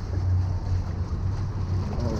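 Waves wash against a fishing boat near the pilings off Virginia Beach, a steady loud rumbling surge with wind buffeting throughout.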